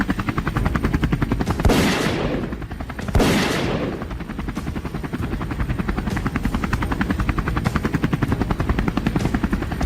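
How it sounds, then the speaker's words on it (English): A helicopter in flight hunting wild boar, its rotor throbbing loudly and steadily throughout, as two sharp gunshots crack out a little over a second apart, each leaving a brief rushing decay. "Finger squeezed the trigger, and the bullet flew through the sky, striking dead on the fleeing beast."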